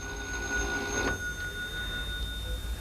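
An old telephone bell rings indoors in a steady, tonal trill that holds for a few seconds at moderate volume, with a brief clatter partway through and no one speaking.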